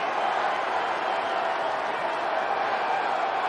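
Baseball stadium crowd at a Dodgers versus Padres game welcoming Manny Machado back to his spot, a broad steady roar of cheering and applause with no breaks.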